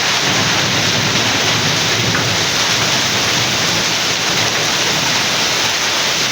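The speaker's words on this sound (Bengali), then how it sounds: "বৃষ্টি পড়তেছে তো, বৃষ্টির মধ্যে" Heavy rain pours steadily and loudly on a street, a dense continuous roar with low thunder rumbling beneath it throughout, no voices.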